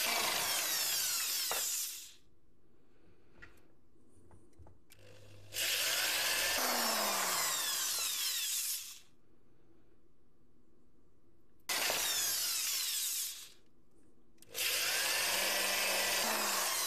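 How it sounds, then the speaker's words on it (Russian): Power drill boring 4 mm rivet holes into a carp feeder, in three long loud bursts of whining drilling separated by quieter pauses with light handling noise, no talk. "Теперь просверлю вот здесь вот отверстие под наши заклепки."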